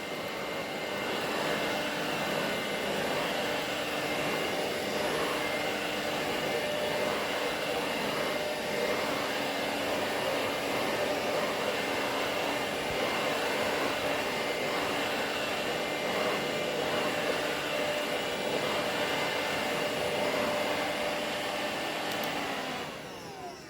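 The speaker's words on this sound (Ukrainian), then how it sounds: "Бачите, чудово він попилососив килим з коротким ворсом." A robot vacuum cleaner runs steadily over a short-pile carpet, a continuous loud whirring hum with a high whine that holds level throughout, with no talking.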